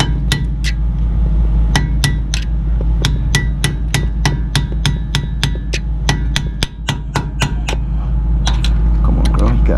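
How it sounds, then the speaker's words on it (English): Sharp metallic hammer blows strike a chisel during rear brake work on a 2009 Audi Q7, in a steady, fairly quick rhythm, about two dozen hits, loud and close over a constant low background hum. "now you want to take your chisel with a hammer"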